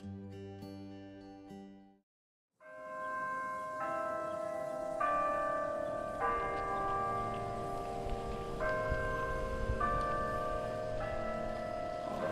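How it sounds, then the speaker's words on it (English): Large University of Arizona campus bells chime in slow succession, their deep tones ringing out and overlapping as they sustain, with no talking. "The bell's ringing?"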